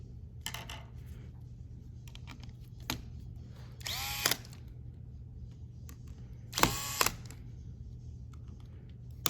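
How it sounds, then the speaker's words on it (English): A small electric screwdriver tightens laptop logic board screws in a Lenovo Yoga 11e Gen 5, giving three short whirring bursts close by, separated by faint clicks and handling taps in a quiet room. "We're gonna tighten the logic board screws."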